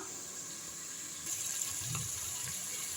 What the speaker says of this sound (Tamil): கொஞ்சமாக புதினாவும் மல்லியும் தண்ணியில் ஊற போட்டிருக்கேங்க இதை வந்து அரிஞ்சு அலசி போட்டுடலாம்